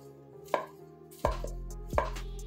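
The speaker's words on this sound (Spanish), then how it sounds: "Le vamos a picar también 9 palitos de cangrejo" Three sharp knife chops land on a cutting board while finely mincing crab sticks, evenly spaced, close and crisp, with quiet background hum between strikes.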